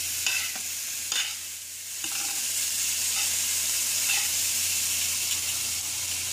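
Peppers frying in a pan for a soul food Sunday dinner, a steady close sizzle and hiss with a few soft stirring knocks and scrapes near the start.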